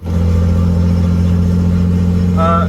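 A BMW E36 drifting car drives close by with a loud, steady engine drone and a constant low rumble, and a brief higher squeal rises near the end.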